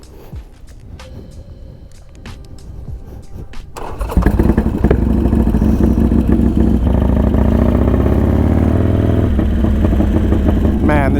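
A Harley-Davidson Sportster Iron 883, mid-build toward a 1275 conversion, fires up partway through and settles into a loud, steady, close-up idle rumble, after a stretch of quieter clattering and shop noise.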